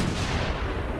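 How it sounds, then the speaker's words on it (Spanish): Naval cannon fire from the German cruiser Emden during a night bombardment of the Indian port of Madras in 1914, a dense, continuous roar of booming blasts that fills the space loud and unbroken. "El Emden se acerca aún más y luego dispara 125 cañonazos."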